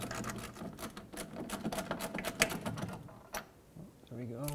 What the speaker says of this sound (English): And I'll take off this rear bolt.